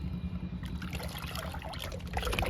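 Liquid plant nutrient is poured onto hibiscus plants, a close, continuous trickling splash of liquid running steadily into soil for a couple of seconds.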